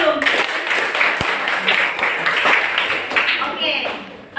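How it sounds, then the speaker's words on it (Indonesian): A classroom of students claps hands together in a short burst of scattered, lively applause, with voices mixed in and a teacher's talk around it. "Jadi tepuk tangan dulu."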